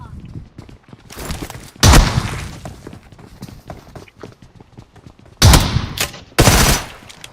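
Sharp bursts of rapid gunfire in the video game BGMI erupt in three loud volleys, separated by quieter clicking and shuffling sounds.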